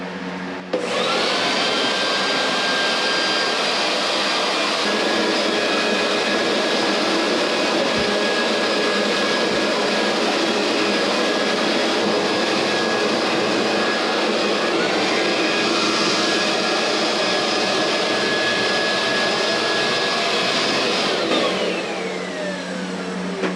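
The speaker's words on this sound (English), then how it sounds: "I'm gonna go ahead and just try and use the blower here and see if I can clean it out that way." A blower roars steadily while cleaning out a BLACK+DECKER 10,000 BTU portable air conditioner, a loud close continuous whine and rush of air that holds for over twenty seconds before winding down.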